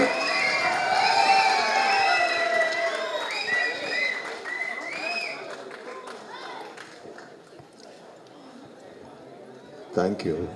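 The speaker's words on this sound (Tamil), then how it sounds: "அவங்களா தான் கைதட்டுறாங்க." A crowd at a Kumki 2 film pre-release event claps and cheers in a dense burst that slowly fades, with voices over the applause.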